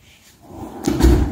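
A wooden drawer set beneath a built-in unit slides open or shut in a short scraping rush that ends with a soft thump, close by and alone.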